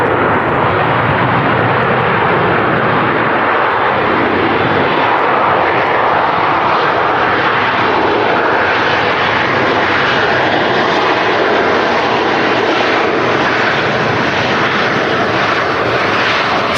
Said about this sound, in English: Silky smooth touchdown from the Ryanair 7-3.